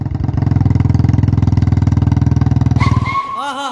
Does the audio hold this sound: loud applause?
no